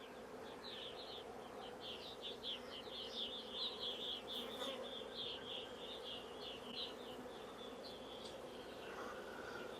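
A honey bee swarm buzzes steadily around hive frames while queens are being marked, a dense continuous hum with many individual bees zipping close by, no talking.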